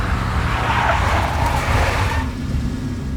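Car tires skidding and squealing in the Max Payne video game, a loud sustained screech over engine roar that eases off near the end, with no talk.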